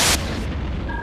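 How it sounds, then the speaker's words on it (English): A big explosion in the space combat game Wing Commander: Prophecy, a loud, deep boom that bursts at full force and then rolls on as a long rumbling decay. "Now that's what I call an explosion."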